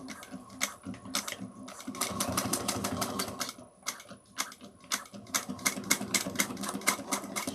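A sewing machine back stitching a bag, running in quick rhythmic bursts of needle clatter that stop and restart, close and fairly loud.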